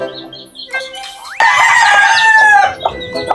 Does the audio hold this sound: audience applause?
no